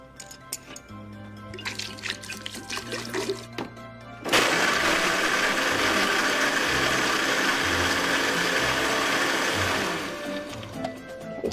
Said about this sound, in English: Did you get that blender?